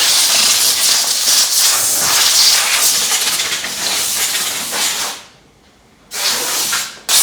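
Compressed air blasts loudly into the mould of an EVA shoe moulding machine, a harsh sustained hiss that cuts off, pauses in near silence, then resumes for a second burst.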